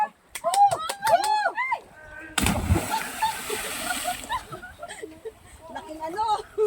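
A person plunges into freshwater at a swimming spot in Siquijor, making one loud, close splash followed by sloshing water, with people chatting and calling out before and after the jump.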